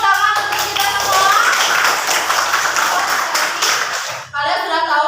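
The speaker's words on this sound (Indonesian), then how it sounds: "Oke, kasih tepuk tangan untuk kita semua." Students in an Indonesian classroom clap together in a dense burst of applause lasting several seconds before it cuts off, with a teacher's voice heard at the start and after the clapping.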